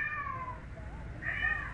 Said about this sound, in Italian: C'è il mio gatto